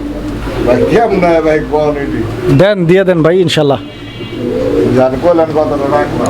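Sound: pigeons cooing

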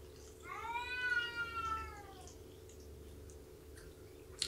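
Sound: cat meowing

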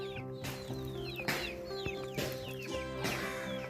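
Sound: chicken clucking

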